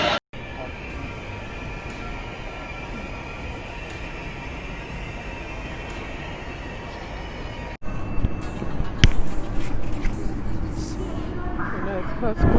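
A first-class carriage of a Chinese train to Jinan gives a steady interior hum and rumble, which turns louder and rougher partway through, with a voice talking over it.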